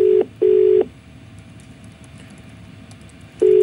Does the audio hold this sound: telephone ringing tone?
yes